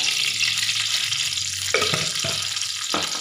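Cumin seeds crackle and sizzle in hot oil as rice preparation begins, a steady frying hiss broken by a few sharper stirring scrapes against the pan, with no talk.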